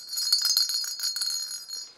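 Jingle bells shaken continuously for about two seconds, a bright close metallic tinkling with an uneven rhythm.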